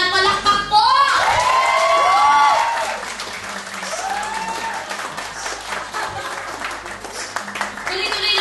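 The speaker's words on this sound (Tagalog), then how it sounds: "Lahat po nang nagagandahan sa akin sa personal, palakpak po!" A comedy club audience at Klub 88 breaks into applause and cheering, loud and crowded at first and then settling into steadier clapping while someone talks over it with a few laughs.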